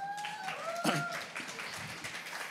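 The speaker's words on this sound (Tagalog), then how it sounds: "Palapakan natin itong tatlong ito" Congregation at a church service breaking into scattered applause, a faint, uneven patter of clapping from a modest crowd lasting a couple of seconds, with some background music tones underneath.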